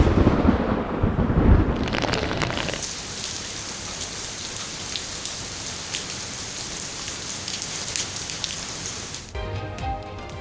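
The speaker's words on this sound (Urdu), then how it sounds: "راولپنڈی، اسلام آباد میں گرج چمک کے ساتھ بارش اور تیز ہوائیں" A thunderstorm over Rawalpindi and Islamabad with strong winds opens on a deep, loud rumble of thunder, then settles into steady, dense rain falling on surfaces, with a brief shift in sound near the end and no talk.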